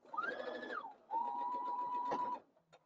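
A sewing machine whirs in two bursts, a short run then a longer steady one, close and clear with a faint click after it stops.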